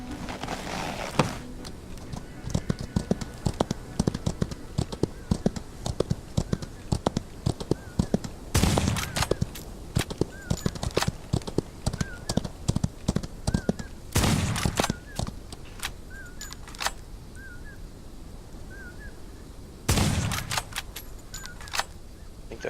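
Rapid gunfire in an outlaw-themed Western video game, scattered sharp shots and a few heavy bursts over a steady background, with faint game sounds between.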